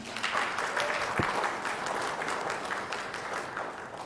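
An audience at a December city council meeting's years-of-service recognition breaks into applause, a steady patter of many hands clapping close by for several seconds.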